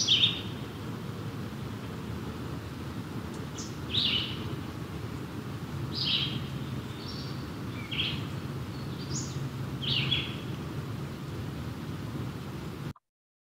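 A common forest bird sings short phrases of slurred notes that end in a downward note, repeated about every two seconds, moderately near over a steady hiss of background noise.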